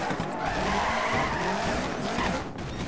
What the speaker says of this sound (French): Pourtant je freine à fond